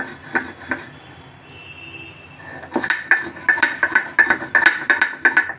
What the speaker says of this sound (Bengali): এই ভর্তা বেটে নিলাম শিলে